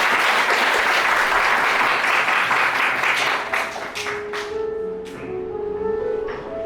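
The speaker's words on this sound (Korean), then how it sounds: "큰 박수로 맞아주시기 바랍니다." Guests applauding at a church wedding ceremony, loud sustained clapping that thins out after a few seconds into scattered claps, with a voice speaking over the fading applause.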